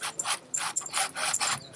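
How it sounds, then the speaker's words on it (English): A hand saw cuts during a rainwater catchment system workshop, giving a steady series of about eight close rasping strokes in an even back-and-forth rhythm. "And bring the saw into that space right there."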